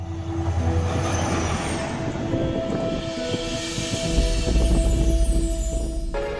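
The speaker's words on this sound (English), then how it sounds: "The train whistle broke the silence, warning of danger" A train rumbles past close by, wheels grinding and squealing, with a sustained whistle-like tone running through the passage.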